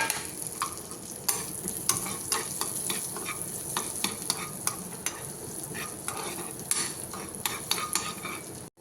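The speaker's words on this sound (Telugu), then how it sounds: "జీలకర్ర ఫ్రై అయిపోతుంది" Cumin seeds and garlic fry in hot oil, a steady close sizzle with frequent sharp crackles and pops and occasional stirring scrapes throughout, no voices.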